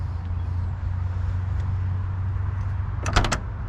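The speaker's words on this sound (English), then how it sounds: "You can see how the door just pops right open. All the doors lock nice and easy." A few quick latch clicks from the passenger door of a 1966 Ford Mustang in Emberglo with GT trim, bunched near the end over a steady low rumble and ambient hiss.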